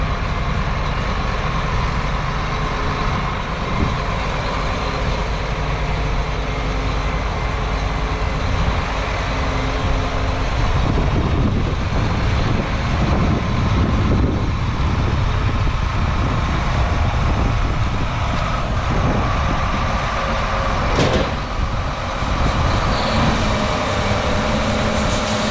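A straight truck rumbles at a grain bin during harvest, a loud, steady, close engine drone that shifts and roughens midway, with no speech.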